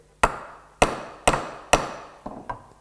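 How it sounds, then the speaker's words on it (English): A hammer taps a scissor pivot on an anvil, five sharp metallic blows at an even pace, with the last one lighter. "This is my anvil, this is my hammer, and I'd start to tighten here."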